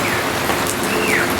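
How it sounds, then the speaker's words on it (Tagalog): Steady rain pattering down outdoors in a rural Philippine yard among fruit trees, a continuous soft hiss close by with no voices. "Dahil umuulan na po ngayon dito sa amin."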